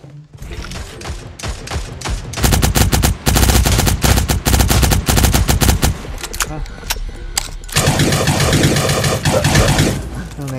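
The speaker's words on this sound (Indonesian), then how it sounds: "Nembak sembarang aja lah." Dense automatic gunfire and rapid bursts from the online shooter game Cyber Hunter, loud and nearly continuous, with short gaps and overlapping weapon fire.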